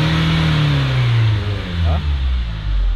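A Hyundai Starex van's D4CB diesel engine, suffering low power, revs up with a rising, droning engine note that stays loud and steady from start to finish.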